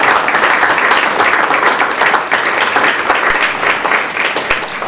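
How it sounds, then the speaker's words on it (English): An audience at a school board meeting claps in steady, dense applause that stays loud and even from start to finish, with no talking over it. "Let's give them a round of applause."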